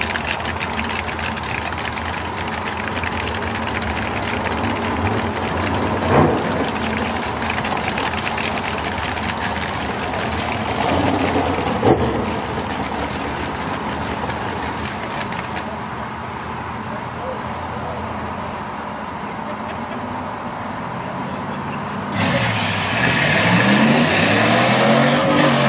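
Ford Mustang and Chevrolet Camaro launching side by side at the Knoxville drag strip, a steady loud engine roar filling the whole stretch with a couple of sharp peaks and a closer surge near the end, with people talking over it.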